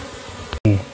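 Honey bees buzz up close during the relocation of a colony taken from inside a tree, a dense droning hum broken by a brief dropout and then a louder burst of buzzing.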